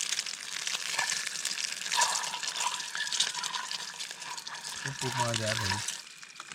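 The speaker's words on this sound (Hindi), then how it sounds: "बढ़िया से एग फ्राई, थोड़ा फ्लेम कम करना, फ्लेम ज़्यादा होगी।" An egg frying in a pan over an open fire at a night campsite by an abandoned house, giving a steady close crackling sizzle throughout, with a voice briefly speaking near the end.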